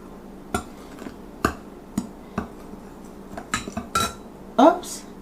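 Waffle batter ingredients get combined in a bowl, with a utensil knocking and clinking against the dish in irregular, sharp taps, close by over a quiet room hum.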